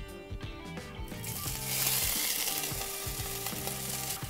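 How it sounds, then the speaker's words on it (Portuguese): Gnocchi frying in roughly a tablespoon of olive oil in a hot frying pan, a steady close sizzle that swells and keeps crackling throughout with faint stirring clatter beneath. "Primeiro, você vai aquecer a frigideira, colocar o equivalente a uma colher de sopa de azeite, mais ou menos, e colocar o seu nhoque."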